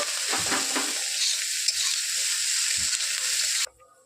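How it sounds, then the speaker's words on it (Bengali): Chopped tomato sizzles and crackles in a hot pan while being stirred, the frying noise steady before cutting off abruptly near the end. "এবার ভালো করে এটাকে আমরা টমেটোটাকে একটু ভেজে নেব"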